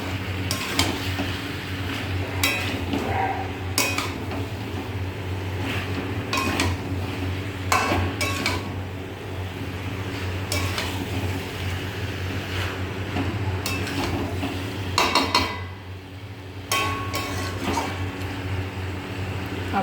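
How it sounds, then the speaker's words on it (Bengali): Fried potatoes are tipped into chicken cooking in a pot and stirred, giving repeated metal clanks and scrapes of a spoon against the pot over a steady background hum, loud and close. "ভেজে রাখা আলুগুলো চিকেনের মধ্যে দিয়ে দেবো।"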